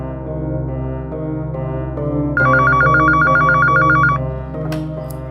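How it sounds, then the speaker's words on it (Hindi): A telephone rings insistently with a repeating electronic trill, loud and close, over a steady low hum, with no one answering. "ये सार्थक फोन क्यों नहीं उठा रहा?"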